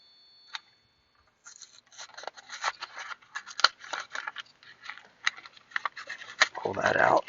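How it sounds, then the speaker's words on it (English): The plastic package of a 3157 brake light bulb is opened with a quick snip, then crinkling, scraping and tearing sounds follow in irregular bursts, ending in louder rustling. "We're going to go ahead and open the pack of the 3157"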